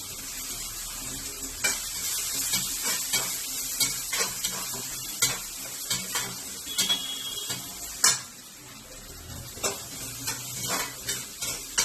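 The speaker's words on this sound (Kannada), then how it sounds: "ಈಗ ಈರುಳ್ಳಿ ಮತ್ತೆ ಟೊಮೆಟೊ ಫ್ರೈ ಮಾಡ್ಕೋಬೇಕು" Onion and tomato fry in hot oil with asafoetida, curry leaves and dried red chillies, a steady sizzle broken by frequent scraping stirs and light clicks of a spoon against the pan, close and fairly loud.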